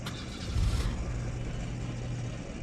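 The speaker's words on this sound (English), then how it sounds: "Roar the engine smothers the rest of her sentence." A car engine in the game Encased roars steadily and loudly for the whole stretch, a low rumbling drone with a brief surge early on, no voices present.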